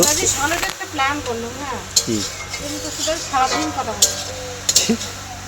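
Leafy greens being stirred and cooked in a pan, with scraping and light sizzling under a person talking nearby.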